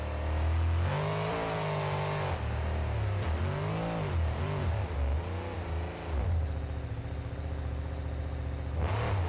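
Monster truck engine in the BeamNG.drive game, loudly revving up and down through a jump and car-crushing run, with rising and falling engine pitch, a brief dip, then a steadier drone ending in a burst.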